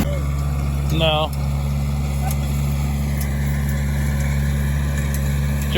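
A Ford 4610 tractor engine runs with a constant, steady low drone close by, while people talk over it.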